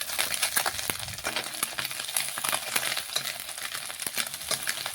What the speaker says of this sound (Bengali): মাছগুলো দেখুন দুপাশেই কড়া করে ভেজে নিয়েছি লাল লাল।